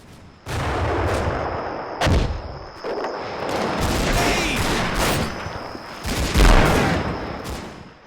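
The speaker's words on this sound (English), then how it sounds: "At this close range, volleys of grenades are exchanged." Grenade volleys and gunfire in the Combat Mission: Fortress Italy video game, loud sustained bursts of fire punctuated by several sharp heavy blasts, continuous and close.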